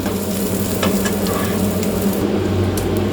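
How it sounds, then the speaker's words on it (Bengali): Onion frying in a pan for a spiced chicken dish, a steady loud sizzle with light stirring throughout and no talking. "ততক্ষণ এই পেঁয়াজটা আমি ভেজে নিচ্ছি।"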